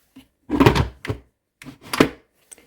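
A few close, dull knocks and clunks of a multicooker lid being lowered and latched shut, in quick irregular succession.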